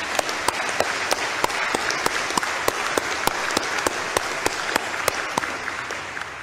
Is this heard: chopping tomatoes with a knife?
no